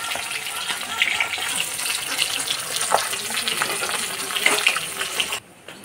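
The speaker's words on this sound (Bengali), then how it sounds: "উঠিয়ে নিয়ে বাকি মাছগুলো আগে ভাজা করে নিই" Fish pieces fry in a pan with a continuous, hissing sizzle and bubbling oil, close and steady, ending abruptly in near quiet.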